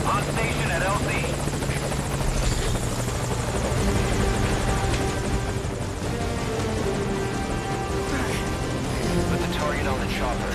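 A helicopter hovers in the Metal Gear Solid Ground Zeroes video game, its steady rotor drone loud and continuous throughout, with voices and radio chatter talking over it.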